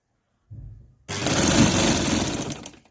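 A sewing machine stitches a chiffon dress neckline, joining it to its lining along pinned lines. A short hum is followed by a loud, steady run of close stitching for about a second and a half before it stops.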